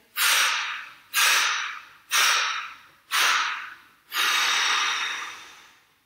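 Forceful exhalations during a Vinyasa yoga breathing exercise: four short, sharp breaths out at an even one-second rhythm, then a longer sustained blow, all close and loud with no talk.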